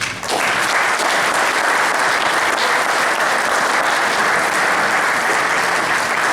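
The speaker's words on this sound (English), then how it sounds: "round of applause for the families" A large audience at an athletic hall of fame ceremony gives a round of applause for the inductees' families, a dense, steady wash of many hands clapping that stays loud and even throughout.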